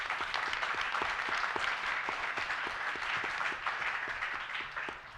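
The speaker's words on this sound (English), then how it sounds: "let's get a big round of applause for those folks" Steady applause from a pitch competition audience at Purdue Northwest, a dense wash of many hands clapping at even volume for about five seconds, fading slightly at the end.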